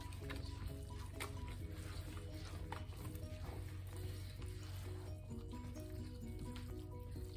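Southern-style cornbread dressing being mixed in a bowl as the bread soaks up liquid, with a steady wet squelching and stirring texture close by, continuous and without talk.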